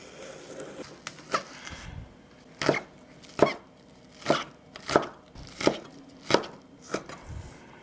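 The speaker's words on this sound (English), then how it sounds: "Next I'm going to prepare the stalk of green onion. Cut this in half." A knife cutting a green onion stalk on a board, about nine crisp, evenly spaced chops, fairly close and clear with no talking.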